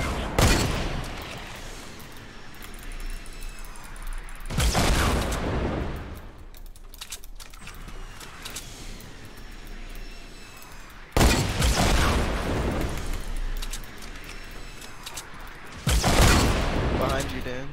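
Gunfire in the Fortnite Battle Royale video game comes as several loud, sharp bursts spread through the stretch, with quieter game sounds between them.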